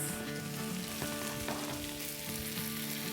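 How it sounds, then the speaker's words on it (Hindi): Spinach, bell pepper and mushrooms sizzle loudly in a hot pan for a vegetable frittata, a dense, continuous frying hiss close by with a faint steady hum beneath. "पालक, बेल पेपर, मशरूम्स सभी डाल देते हैं।"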